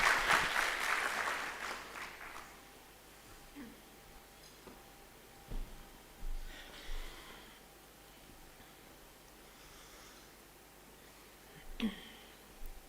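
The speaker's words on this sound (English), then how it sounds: "Please clap for her." A short burst of audience clapping at the launch event of a climate-focused African green transition program fades out within a couple of seconds. It leaves a quiet hall with occasional faint rustles and murmurs.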